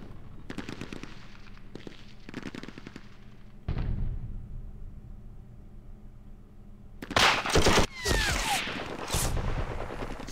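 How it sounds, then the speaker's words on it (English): Gunfire opens up in a war strategy game depicting an Israeli Defense Forces raid on Jordan in 1968, with several bursts of rapid shots early on, then a louder, denser cluster of firing near the end. "Just opening fire."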